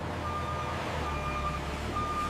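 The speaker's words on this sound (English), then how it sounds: "Every shipment is logged before the truck backs into the intake bay." A truck's reversing alarm beeps steadily in a repeating pattern as it backs into the intake bay of a silk factory, heard over a constant low engine rumble.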